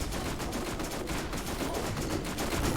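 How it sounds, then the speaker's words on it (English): Rapid gunfire from the Borderlands video game as zombies are shot, a dense continuous burst of automatic shots running loud and steady throughout. "Because I'm shooting at other zombies."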